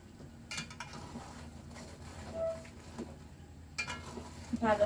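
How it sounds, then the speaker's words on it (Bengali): A spoon scrapes and clinks quietly in a bowl as mustard, green chili and ginger-garlic paste are stirred into a sweet, sour and spicy mango pickle, with soft intermittent knocks and occasional faint talk. "ভালো করে আচারের সাথে মিক্সড করে দিতে হবে।"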